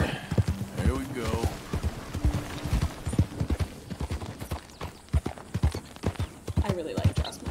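Horse hooves clip-clop in a steady, close rhythm as a mare is ridden in the Western video game Red Dead Redemption II, with the beats sounding clearly under a person talking.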